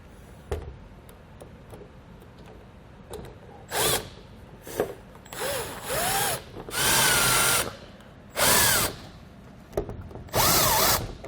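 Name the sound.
power drill driving screws to mount LED RV light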